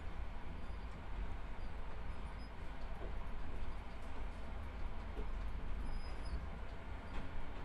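Train rumble in a Backrooms Complex: Expedition video game level, a steady loud rolling roar with faint high metallic squeals near the end, going on without a break.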